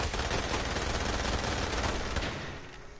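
Rapid automatic gunfire in a video game rattles continuously at the player's squad, a dense, loud burst of shots that thins out toward the end.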